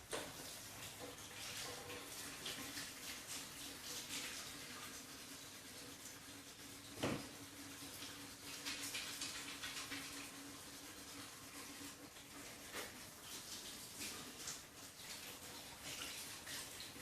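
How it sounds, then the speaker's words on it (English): Tap water runs in a steady, soft gush while hands are washed beneath it, faint and continuous, with a brief knock partway through. "I'm going to wash my hands"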